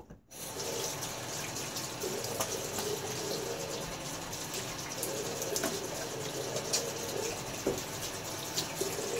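Shaving lather is rinsed off under a running tap, a steady, soft splash and trickle of water that continues throughout, with faint pigeon coos in the background.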